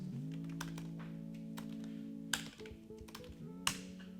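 Typing on a computer keyboard, quick light key taps in irregular bursts with a couple of sharper clacks, close and fairly quiet over a steady background hum.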